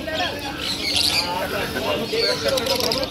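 Caged birds at a Srirampur bird market squawk, chirp and flutter their wings close by in a dense, busy chorus, with people talking over the noise throughout.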